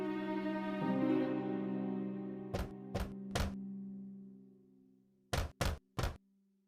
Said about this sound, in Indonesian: dan mengetuk pintunya.